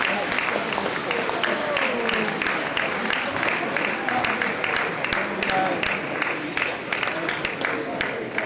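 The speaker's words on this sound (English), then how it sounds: "Let's give them a round of applause as they complete." Spectators clap steadily for masters athletes finishing a 1500 metre race at the British Masters indoor track and field championships, sustained scattered applause in a large hall with a voice talking over it.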